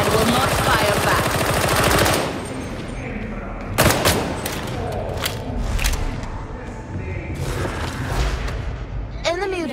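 Gunfire in Warhammer 40000: Darktide, sustained rapid automatic bursts and heavy shots up close, with booms and scattered single cracks under a voice talking.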